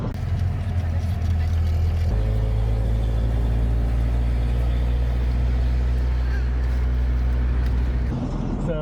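Steady engine drone and road rumble from inside a moving car, loud and continuous, with a low hum that shifts pitch partway through and eases off near the end.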